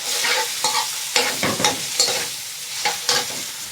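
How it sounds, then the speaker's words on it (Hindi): Chicken sautéed with ginger garlic paste in a pan, giving a continuous close sizzle broken by repeated scraping and stirring strokes at a steady, brisk pace. "चिकन को अच्छी तरह हम यहाँ पे सौते कर लेंगे"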